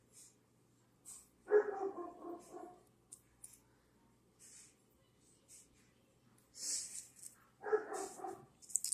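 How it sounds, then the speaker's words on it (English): A small dog gives a few short, muffled barks and whines at intervals, with quiet gaps and faint rustling between. "Sorry about my puppy dog."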